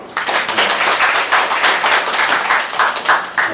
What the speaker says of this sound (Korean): 이 사람을 위해서 박수 한 번 쳐주세요